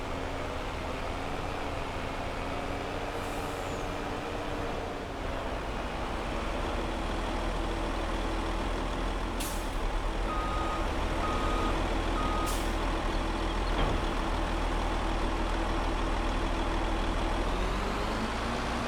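A truck engine idles and runs steadily in Farming Simulator 22, with a constant low drone, a few sharp hiss bursts, and short, evenly spaced reversing beeps partway through, no talk.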